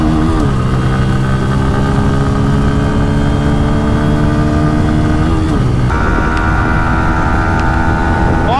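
A 2022 Bajaj Pulsar N160 and a Yamaha MT15 V2 racing flat out, loud close engine drone that holds steady then jumps in pitch at a gear change, continuous throughout.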